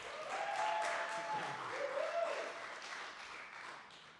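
Audience at a sober open mic night applauding the performers, a sustained wash of clapping with a few whoops and cheers rising over it, then slowly thinning out.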